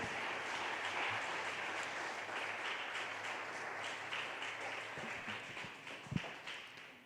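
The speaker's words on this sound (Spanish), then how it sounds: "así dale un aplauso al Señor" Congregation clapping during a church sermon: sustained, crowded applause filling the room, tapering slightly toward the end, with a few louder individual claps and no speech.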